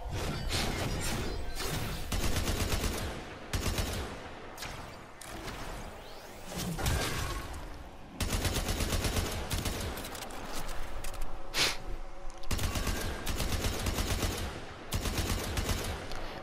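Dense, sustained bursts of rapid gunfire from weapons in Warframe Railjack gameplay, loud and continuous with brief pauses, mixed with whooshes and crashing impacts.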